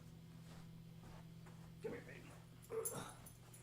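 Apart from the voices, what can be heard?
small dog whimpering and yipping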